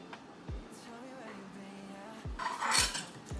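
Drink stirred by hand with a spoon in a glass, sweetened with stevia: several sharp clinks of metal against glass and dishware, with a brighter burst of clattering toward the end, close and moderately loud, no talking.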